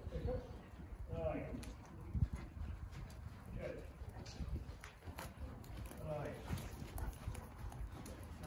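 Horse hooves clip-clop at a steady walk during a riding lesson with gait transitions, moderately close, with an instructor talking over much of the sound.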